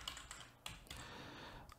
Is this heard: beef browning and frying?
no